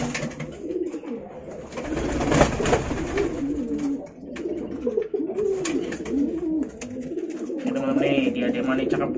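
Pigeons cooing close by in a loft or cage, steady overlapping low rolling coos that continue throughout at a fairly loud level, with some background noise but no clear speech.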